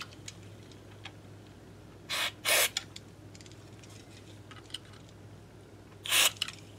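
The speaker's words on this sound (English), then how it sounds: "I'll spray these electronics out." A few short hissing bursts of cleaner sprayed onto electric guitar electronics, two close together then one more after a pause, over quiet background with faint small clicks.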